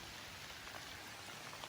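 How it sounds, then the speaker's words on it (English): Outdoor rain falls steadily, a soft, even hiss with faint scattered drops pattering, quiet and continuous with no voices. "Rain picked up as I walked out here."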